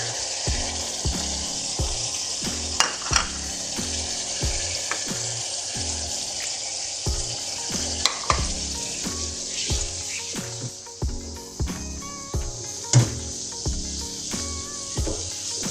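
Onion sizzling in hot oil as peas and ginger are added for mixed vegetable rice, a steady close frying hiss broken by repeated rhythmic stirring scrapes and knocks of a spoon against the pan, with no voices.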